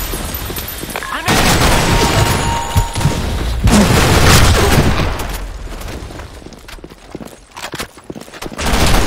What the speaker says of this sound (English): Fire in the hole! Dash out! Grenade!